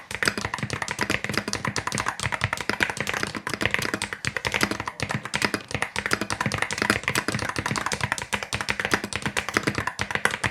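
Rapid, continuous clacking of mechanical keyboard keys, close and steady, with dense overlapping keystrokes and no talking.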